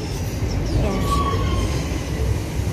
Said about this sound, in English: Ito po yung train sasakyan natin papuntang Birmingham New Street